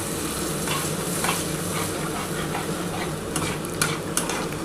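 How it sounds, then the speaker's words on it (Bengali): Spice paste for a bhola fish curry is sautéed in a pan after water is added, bubbling and sizzling steadily while a spoon stirs, with a few light clinks near the end. "এবার যে মশলার জলটা আছে সেই জলটা দিয়ে দিচ্ছি। এই জলটা দিয়ে এবার কষাবো ভালো করে।"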